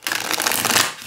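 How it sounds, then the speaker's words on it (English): A deck of Kosmos Oracle cards, standard oracle size of roughly 3 by 5 inches, is riffle shuffled once in a quick, close, crisp burst of flicking card edges lasting about a second. "They do riffle shuffle nicely."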